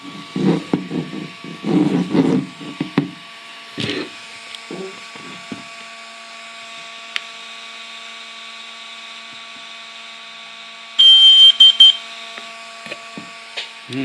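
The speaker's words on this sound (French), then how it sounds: "jusqu'à ce que l'appareil émette un bip pour indiquer qu'il est en mode appairage" Some clicks and handling knocks, then a quiet stretch before a short burst of electronic beeps from a DJI Air 2S drone entering pairing mode near the end, with faint tones throughout.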